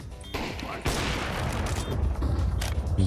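Counter-Strike 2 gunfire bursts out in a loud rapid fusillade, sharp cracks layered over a dense rumbling mix, with a voice talking underneath.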